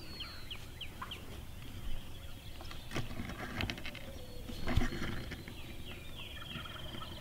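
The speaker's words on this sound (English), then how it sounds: "Homeboy's still gobbling over there." Wild turkeys gobble and cluck outdoors at moderate distance, several short rattling calls scattered over steady background noise, with no talk.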